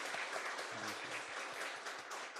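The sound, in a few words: congregation applauding to welcome newcomers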